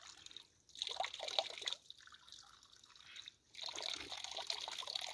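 Natural spring water trickling and dripping in a forest, a steady close liquid babble with brighter splashy stretches around softer pauses, no talk over it.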